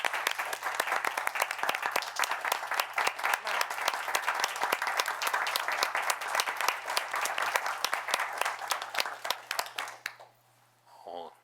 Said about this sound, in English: please join me in giving a big round of applause for Fire Marshal Greg Merrick.